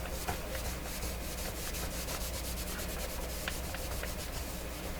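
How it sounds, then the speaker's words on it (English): A microfiber cloth dry-wiping an Electrohome Serenader 9A62-S console, a steady close scratchy rubbing with quick back-and-forth strokes and no voices. "I'm just kind of dry cleaning it here using microfiber cloth"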